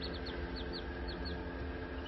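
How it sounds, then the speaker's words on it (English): A flock of meat chickens clucks and chirps steadily in a coop, many soft overlapping calls with brief higher peeps recurring every few tenths of a second over a constant low hum. "They're all just clucking away."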